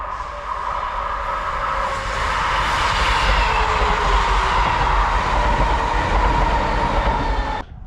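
A train rumbles past near the Forth at Dalmeny on a late summer evening, a loud, steady roar with a broad hiss that holds for several seconds and then cuts off at the end.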